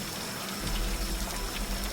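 Steady rain falls in an outdoor setting, a soft, even hiss of drops with a faint low patter underneath, continuous and fairly quiet with no voices.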